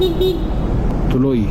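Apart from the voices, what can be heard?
motorcycle horn honking in traffic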